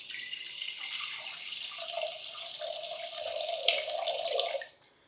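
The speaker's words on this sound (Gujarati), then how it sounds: "તો આ રીતે કાંઠલાના લેવલ સુધીનું પાણી આપણે એડ કરવાનું છે." Water poured from a tap into a pressure cooker fitted with an inner stand, filling it to the stand's level for dal and rice; a steady hissing gush with a rising tone as the vessel fills, then cut off, no talking.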